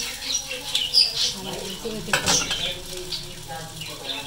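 Aloo tikki fry on one side over low heat in a pan, a soft crackling sizzle broken by scraping and clinking from a utensil against the pan, close and moderately loud.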